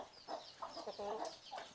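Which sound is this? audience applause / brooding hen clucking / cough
brooding hen clucking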